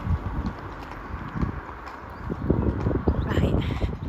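A horse's hooves clip-clop at a steady walk on an outdoor hack, a regular rhythm of dull thuds heard fairly close, with faint birdsong and wind in the background.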